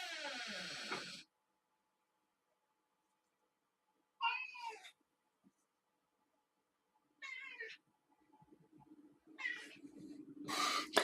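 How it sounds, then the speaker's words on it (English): A pet cat meows in several short separate calls, near and fairly loud, with quiet gaps between them and a little faint background sound. "Do y'all hear my cat?"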